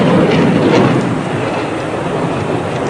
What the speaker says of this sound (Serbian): Pilot posle kratkog zaleta vrši vertikalni manevar aviona.